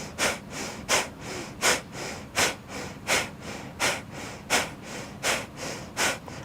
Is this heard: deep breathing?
yes